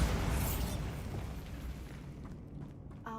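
A Bombarda spell in Hogwarts Legacy bursts with a loud, heavy explosive boom that rumbles and decays over a few seconds, followed by a brief softer clatter at the end.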